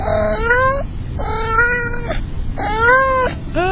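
Several drawn-out cat meows, three main calls in a row with short pauses between, close and clear over a low background rumble.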